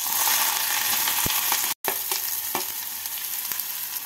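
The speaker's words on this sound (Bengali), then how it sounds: "ফোড়নটা হয়ে গেছে, এবার এর মধ্যে কুচিয়ে রাখা পেঁয়াজগুলোকে দিয়ে দিচ্ছি" Chopped onions hit hot oil tempered with white cumin, giving a steady broadband sizzle of frying with a few faint stirring clicks and one brief dropout partway through.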